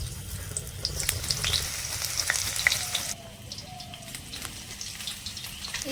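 Panch phoron, bay leaves and dry red chillies frying in hot oil, a dense crackling sizzle that stays close and steady, softening partway through as it is lightly stirred.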